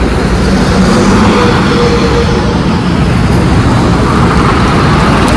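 Loud, steady highway traffic roar with vehicles continuously rushing past close by, a dense unbroken wash of road noise with no talk.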